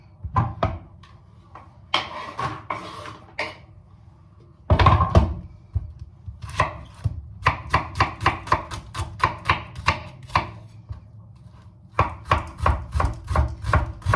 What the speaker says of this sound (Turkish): Doğrayabildiğiniz ufak doğrayın aslında pek bir yok.